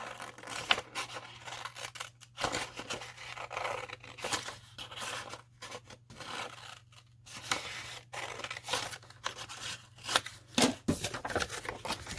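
Scissors cutting a paper egg along a zigzag line, a long run of close, irregular snips and crisp paper rustles with short pauses between cuts, no talk.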